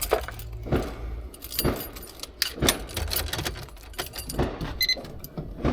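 Keys jangle and clink repeatedly in short metallic bursts over a low steady hum, fairly close and loud with uneven rhythm, during work on a vehicle roof with a keypad and fan.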